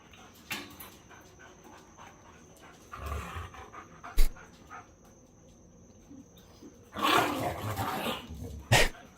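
A dog on a Florida trip pants in short bursts and lets out a few louder sharp barks or yelps, close by, with crickets chirping steadily behind and brief quiet gaps between.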